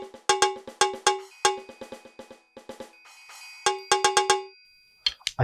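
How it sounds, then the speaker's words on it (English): Cowbell sounds triggered on a Yamaha DTX-M12 drum pad, sharp bright metallic hits played in quick rhythmic bursts with short gaps, close and clear. "If I play very hard, I get the cowbell"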